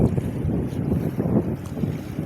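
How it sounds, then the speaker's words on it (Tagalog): Wind buffets a harbor pier beside docked ships, a loud, continuous gusting roar that rumbles in the microphone with a faint wash of water underneath. "Medyo mahangin ngayon guys"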